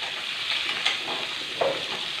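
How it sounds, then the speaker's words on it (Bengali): Pumpkin pieces fry lightly in a pan with a continuous close sizzle, broken by a couple of stirring scrapes against the pan; no one speaks. "নেড়ে চেড়ে হালকা করে ভেজে নেবো"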